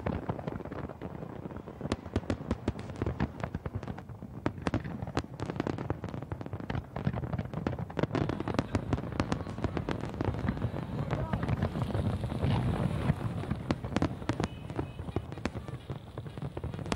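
New Year fireworks crackling and popping continuously, dense irregular bangs near and far, with crowd noise underneath throughout.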